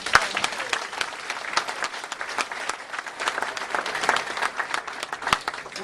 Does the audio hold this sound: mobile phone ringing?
no